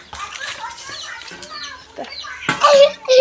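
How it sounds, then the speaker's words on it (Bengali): Hens clucking near their chicks in a rural yard, with rapid chirps and clucks close by and a flurry of louder squawks toward the end. "আর ওই যে মুরগির বাচ্চাগুলোকে ছেড়ে দিয়েছি,"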